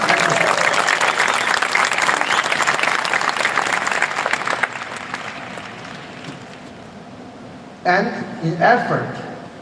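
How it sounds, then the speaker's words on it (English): A crowd applauds explorers standing up at a Mi A2 launch event, with dense, loud clapping that thins out halfway through, then fades. Brief voices and a musical flourish come in near the end. "If you could stand up so that we will give you a round of applause."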